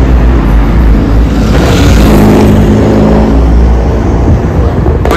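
Heavy vehicle rumbling past on a London road, a loud continuous low roar that swells mid-way, with people talking over it.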